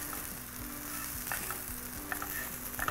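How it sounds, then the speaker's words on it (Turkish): Spices including cinnamon roast and sizzle steadily in a hot pan, with a few soft stirring scrapes and clicks over the continuous frying hiss, close up and with no talking. "Baharatları da hafif kavuracağım."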